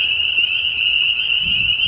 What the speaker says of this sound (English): hearing a bunch of frogs and stuff.